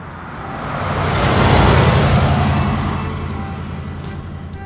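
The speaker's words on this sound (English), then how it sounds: "Sports car." A sports car roars past, building to a loud broadband peak at about a second and a half and then slowly fading as it moves away, with no voices.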